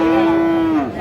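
A Friesian or crossbred bull calf at the Raniganj cattle market gives one loud, close, sustained moo lasting about a second, its pitch sagging at the end, with faint market murmur underneath.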